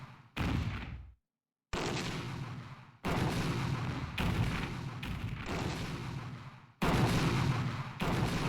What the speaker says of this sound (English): Sending just a constant barrage of missiles against them.